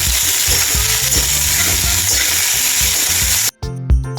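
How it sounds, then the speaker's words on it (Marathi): Onions sizzling steadily in a hot pan, a loud continuous crackling hiss with stirring knocks underneath, then a brief break near the end. "आता हे पण लालसर पर्यंत भाजून घ्यायचं आहे"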